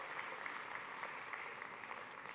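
Audience at an energy industry conference applauding a panel, a continuous even wash of clapping that stays moderately distant and fairly quiet throughout.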